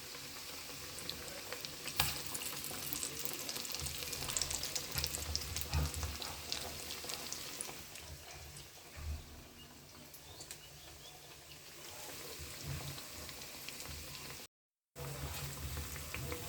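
Onion fritters (piyaji) frying in hot oil, a dense continuous bubbling sizzle with occasional pops and clinks, close up and without talk.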